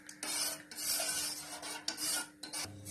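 A spoon or ladle scrapes and stirs sathu maavu kanji, a multigrain health-mix porridge, in a pan over a medium flame. The rasping, rubbing strokes run steadily and close, with a few short breaks, and no one speaks.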